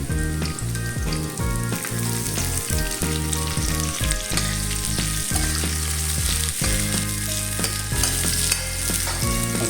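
Onion sizzles in a pan alongside garlic while fish steak is being cooked, with a constant frying crackle and occasional stirring clatter, mixed with a loud background of steady music.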